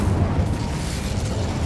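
The Incendio fire spell is cast in Hogwarts Legacy gameplay, giving a dense, booming burst that roars steadily through the short moment with no talk over it.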